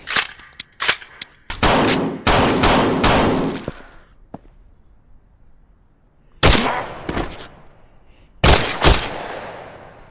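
Gunfire during a room-breaching drill: loud, close bursts of rapid shots and single cracks, separated by pauses, with a sharp clang between the bursts.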